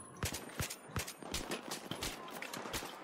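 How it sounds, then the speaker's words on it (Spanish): Rapid automatic gunfire in the Battlefield 3 campaign, sharp bursts cracking in quick irregular succession, fairly faint and distant, with no talk during the shooting. "¿Qué me dispara tanto?"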